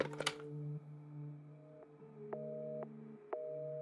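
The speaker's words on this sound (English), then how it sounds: "It's just a dial tone." In Resident Evil VII: Biohazard, a telephone handset gives a steady electronic tone that repeats in short pulsed bursts after a click, faint and alone with no speech.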